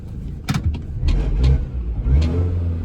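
A Mini Cooper S R53 being driven backwards and forwards in a farm yard, its engine close and steady with brief revs and shifting engine tone.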